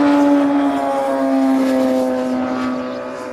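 A Qantas airliner departing Honolulu drones steadily overhead, its engines holding a strong sustained tone that slowly fades as it moves away; no voices.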